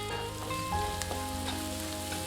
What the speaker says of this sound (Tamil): இப்போ வெங்காயம் ஓரளவுக்கு வதங்கிடுச்சுங்க.